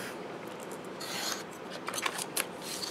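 Paper being cut with scissors for a crafting project with 3D embossing folders, a few quiet snips and rasping scrapes, the strokes growing crisper toward the end, with no voices.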